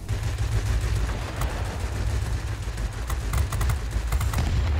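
Warplane 20 mm cannons fire in the Warplanes game, rapid bursts of gunfire over a constant engine roar, the shots clustering in quick strings toward the latter half.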